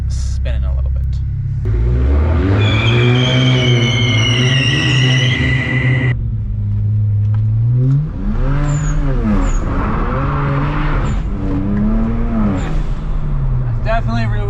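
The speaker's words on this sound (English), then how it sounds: "we're just going to get the rear wheels spinning a little bit." A BMW converted from xDrive to rear-wheel drive, running with traction control off as its rear wheels spin: a loud, close engine revving and rising, dipping and climbing again in pitch, with a strained roar under the bursts.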